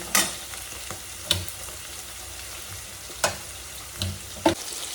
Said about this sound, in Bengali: মাছগুলো খুব সুন্দর লাল লাল হয়ে আসছে এগুলো একটু আমি বেশ লাল লাল করেই ভাজা করব